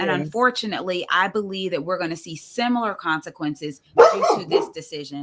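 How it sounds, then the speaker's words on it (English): A dog barks a few times in a room during a membership meeting, sharp yips breaking in near the end while a person keeps speaking at a microphone. "I apologize for my dog."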